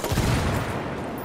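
Rapid bursts of gunfire rattle in a video game firefight, a dense, loud volley that stays steady through the short moment.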